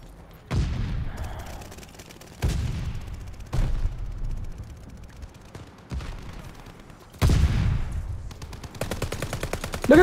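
Gunfire from the video game Call of Duty comes in several sharp, loud bursts spaced a couple of seconds apart, with a rapid rattling volley near the end.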